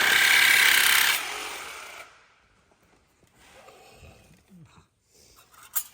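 A Sawzall reciprocating saw cuts through truck metal in a loud, harsh buzzing burst for about two seconds, then stops, leaving faint handling and scraping noises.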